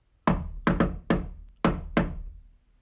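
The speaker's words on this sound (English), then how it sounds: "Toad knocked at the door." Five hollow knocks land on a wooden door in two quick pairs and a single final rap, close and resonant, with nothing else around them.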